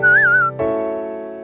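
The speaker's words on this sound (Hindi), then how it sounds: "अंजलि फिर सीटी बजाती है।" A woman's shrill, wavering whistle rises and dips for about half a second in a Hindi bedtime ghost story about a witch, then cuts to a sustained buzzing tonal drone.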